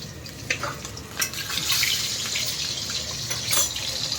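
An egg fries in a pan in a home kitchen, giving a continuous moderate sizzle with a few sharper crackles and splashy bursts scattered through it, and no one talking.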